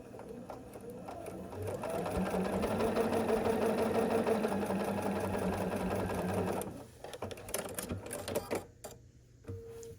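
A sewing machine runs steadily for several seconds, stitching a quilt block seam corner to corner, then stops, leaving a few brief handling clicks and rustles.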